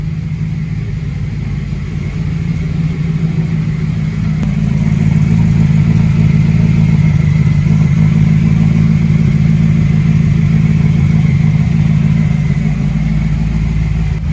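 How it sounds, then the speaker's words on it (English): A Porsche Cayman fitted with an Audi V8 engine runs steadily, giving a deep, droning engine hum that swells slightly partway through and then holds a loud, constant note. "Cayman V8 running and driving"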